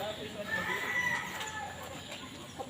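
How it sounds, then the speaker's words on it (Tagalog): Chickens cluck and a rooster crows at a moderate distance along a hill trail at Lignon Hill in Legazpi, Albay, set against steady outdoor ambience with no talking. "Daming mga manok."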